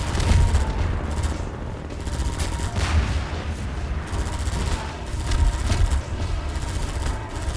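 Gunfire in Half-Life 2 shooting down rockets: repeated loud shots and booms in dense bursts over a rumbling low background, with no talk.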